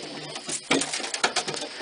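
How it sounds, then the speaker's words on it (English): Pigeons stir and coo inside a loft, giving soft, close, irregular bursts of fluttering and cooing against a steady low background, with no talking. "A lot of pigeons. Lots of pigeons."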